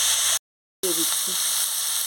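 Bitter gourd frying in a pan for a Bengali chorchori, a steady bright sizzle broken by a short silent gap, with faint stirring touches.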